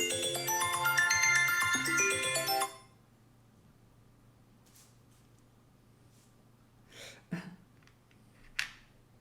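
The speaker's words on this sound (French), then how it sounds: "C'est l'alarme de mon téléphone qui m'avertit que c'est la fin de la consultation." Mobile phone alarm ringing, a bright melodic ringtone for a few seconds, then stopping, followed by quiet with a few brief faint rustles and clicks.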